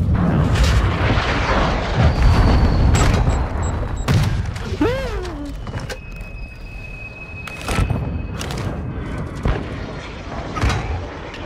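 Grenade explosions and gunfire boom repeatedly in a Modern Warfare II Search & Destroy match, with sharp blasts spaced every second or two, loud and close, while a player talks intermittently over the action.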